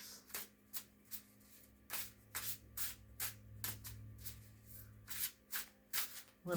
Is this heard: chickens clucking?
no